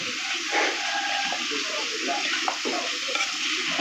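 Beef is stir-fried with holy basil and pork fat in a hot pan, giving a steady loud sizzle with repeated scraping and tossing strokes of the spatula throughout, no talk over it.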